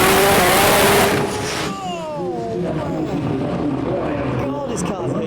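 A drag racing car launches off the start line at Summer Slam with a loud, dense roar for about a second. It then drops to a fainter whine as it pulls away, with other engines revving in the background.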